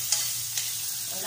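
Onion fries in a little cooking oil, giving a steady close sizzle with two quick scrape-and-clink stirs of a utensil against the pan. No one speaks.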